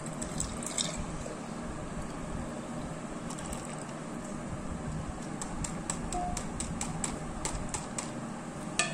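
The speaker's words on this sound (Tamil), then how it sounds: "இப்போ இதை வந்து நம்ம ஒரு கிளாஸில் டிரான்ஸ்ஃபர் பண்ணி விட்டு எடுக்க போகிறோம்" Cumin and ginger water is poured into a glass as a steady, close trickle that runs on without a break at an even level.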